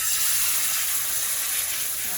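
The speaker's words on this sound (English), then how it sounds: "a nice sizzle." Chicken pieces sizzle in a hot pot while being sautéed with peppers, a steady bright frying hiss that stays loud and continuous throughout.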